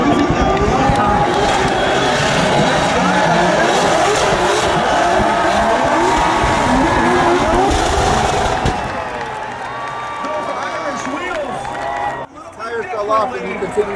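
Drift cars at a Formula Drift event in Long Beach roar loudly with sustained skidding and tire squeal, while a crowd cheers and an announcer talks over the noise, which eases off near the end.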